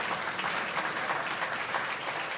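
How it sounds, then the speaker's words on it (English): Audience applause rings out at the Mending Broken Hearts Gala, honouring Councillor Racco: a dense, steady clapping crowd filling the room from start to finish. "big round of applause for Councillor Racco"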